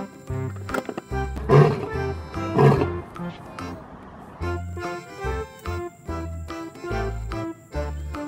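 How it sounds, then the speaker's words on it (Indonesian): A lion roar in a children's toy-animal setting, repeated bursts of loud roaring and growls with electronic tones, interspersed with a voice talking. "Ada binatang singa."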